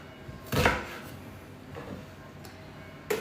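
Knife chopping pork into pieces for skewers on a kitchen board, one firm loud chop followed by a couple of lighter cuts and a sharp click near the end.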